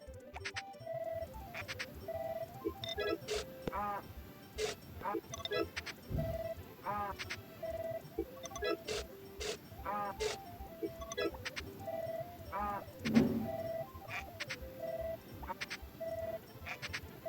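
Repeated short sheep bleats from Harvest Moon: Back to Nature pop up every second or so across the clip, bright and clear over a steady soft backdrop of speech-like chatter.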